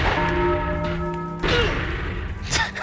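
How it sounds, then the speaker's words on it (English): A bell rings in the game Iron And Blood: Warriors of Ravenloft, a clear sustained metallic tone fading for over a second, followed by a second strike and thuds of fighting, with no speech. "Oh, the bell rung."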